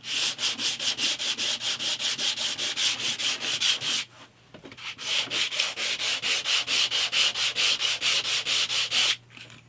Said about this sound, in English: just give it a quick going over with the sandpaper